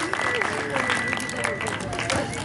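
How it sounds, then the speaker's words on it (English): Congregation clapping hands at an evening church crusade in Ruiru, a continuous patter of many hands over crowd murmur, with voices talking through it. "Go ahead and give a hand clap to Jesus."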